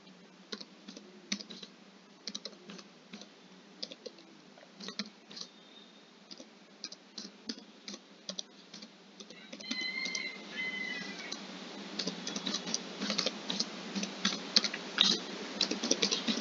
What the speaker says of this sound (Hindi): ये मेरा सब्जेक्ट जो है मैं उसे यहाँ से टाइप कर ले रहा हूँ